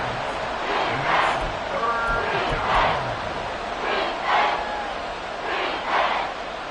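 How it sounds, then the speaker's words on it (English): Crowd at Arrowhead Stadium in Kansas City roaring during an American football game, a loud, continuous wall of cheering that swells in repeated surges. "The Arrowhead crowd in full roar."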